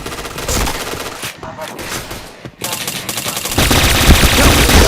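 Rapid bursts of automatic gunfire and single shots ring out in a multiplayer shooter game, loud and dense with brief gaps, ending in a heavier sustained barrage.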